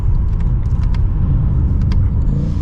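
A BMW M8 Competition Gran Coupe from 2023 drives hard with quick gear shifts, its engine and exhaust a loud, steady rumble heard from inside the cabin, with brief mechanical clicks over the drone.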